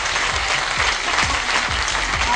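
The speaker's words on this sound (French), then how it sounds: "Alors, on peut les applaudir hein, pour les encourager." Studio audience claps to encourage a team on a RTI 1 game show, a brief, steady burst of dense applause.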